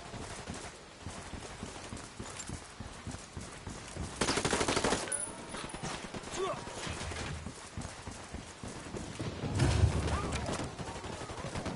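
Gunfire rattles through a video game shootout against cartel reinforcements, with bursts popping over hoofbeats and background rumble while someone talks over the action.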